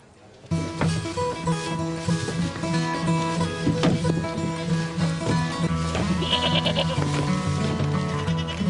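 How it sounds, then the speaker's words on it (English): Goats bleat repeatedly, close by, their wavering calls overlapping over a steady background hum. "These goats have done enough damage already."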